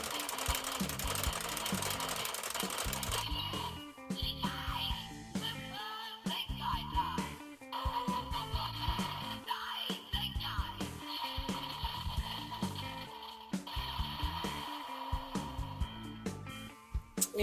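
A Gashapon Sentai Gear Zyuranger toy plays its electronic finisher effect, a loud, busy stream of tinny synthesized tones and chiming jingle phrases with brief pauses, all alone without talk.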